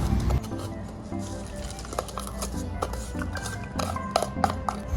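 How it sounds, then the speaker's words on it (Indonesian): Salt being stirred into water to dissolve it, with a continuous close clatter of a spoon scraping and clinking against the container, busy and steady throughout. "Lalu kita aduk sampai garamnya larut ke dalam air."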